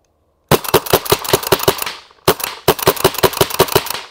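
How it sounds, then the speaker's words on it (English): Predator Autococker paintball marker firing two rapid strings of shots, each burst about a dozen sharp, close pops in quick rhythm with a short pause between them. "just going to shoot Marcus's gun"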